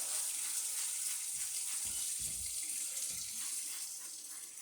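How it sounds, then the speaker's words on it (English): Tap water runs steadily into a sink while hands are rinsed after handling pineapple wine pulp, a continuous hiss with faint splashing. "I'm going to take the star sand and rinse my hands off."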